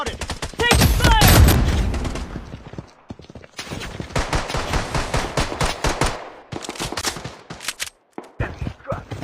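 Loud bursts of automatic gunfire in the mobile shooter Blood Strike during a rain-mode match, with rapid strings of close shots broken by short gaps and a brief pause near the end.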